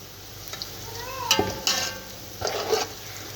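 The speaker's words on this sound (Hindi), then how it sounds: "प्याज को हमने फ्राई कर लेना है अच्छे से" Onions sizzle in a pan for chicken biryani, a soft frying hiss broken by a few brief stirring clatters and scrapes of a utensil against the pan.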